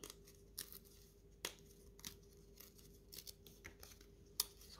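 Scissors snip embroidery thread while a cross-stitch kit is unpacked, a handful of sharp, isolated clicks spread out over a quiet background.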